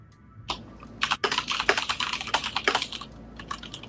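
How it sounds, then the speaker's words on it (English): Rapid bursts of typing on a computer keyboard, close and fairly loud, with irregular clusters of key clicks and short pauses between flurries, no talking over it. "I think that was me typing."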